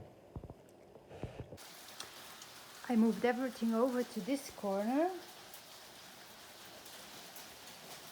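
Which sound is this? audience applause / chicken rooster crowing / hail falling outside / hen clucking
hail falling outside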